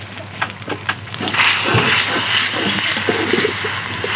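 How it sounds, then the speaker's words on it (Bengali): Spices sizzling and hissing in a hot pot as they fry for pulao, a loud continuous sizzle that surges after a few softer crackles at the start, with clinking under it. "তো এটা মশলা কষাইতেছি"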